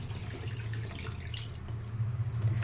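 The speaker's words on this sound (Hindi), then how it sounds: "पानी ऐड करवा" Water poured into a pan of fish curry with mustard, a steady close splashing pour with a low running gurgle that swells toward the end, no voices.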